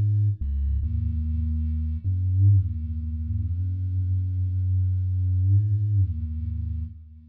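A CS70 sine wave patch loaded in UVI Falcon holds a steady, loud, pure synth tone with a low fundamental and faint upper partials. The pitch shifts a few times and the sound stops abruptly near the end.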